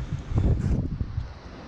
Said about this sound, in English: Wind is really blowing through there.